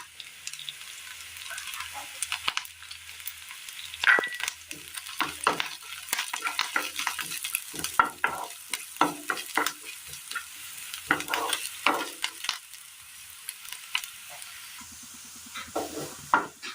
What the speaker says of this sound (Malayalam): സബോള നമുക്ക് നന്നായിട്ടൊന്ന് വഴന്ന് കിട്ടിയിട്ടുണ്ട്.